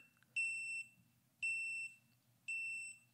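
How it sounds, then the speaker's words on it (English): A leak-sensor alarm inside an underwater camera housing beeps three times in a steady rhythm, each a half-second high-pitched electronic tone, close and clear over a quiet low hum. "this annoying beep goes off"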